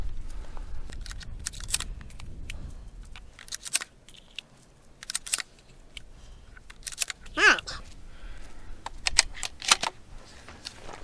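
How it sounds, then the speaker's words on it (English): Five Federal shorty shotshells are pushed one by one into a Remington 870 or Mossberg 500 pump shotgun, giving sharp close clicks and metallic snaps spaced irregularly, with a quiet voice briefly heard between them. "let's load 5 rounds and see what happens"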